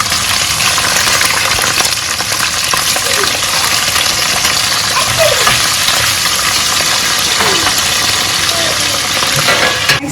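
Beef fries in a stew pot with a steady, loud, dense sizzle that continues unbroken throughout, with no voices heard.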